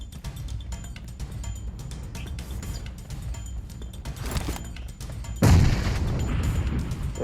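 A sharp boom from a grenade explosion in PUBG Mobile bursts out partway through, loud against a steady backdrop of game noise and scattered clicks.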